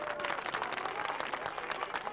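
Wedding guests at a village celebration applaud the bride and groom, a faint steady patter of many hands clapping for a couple of seconds.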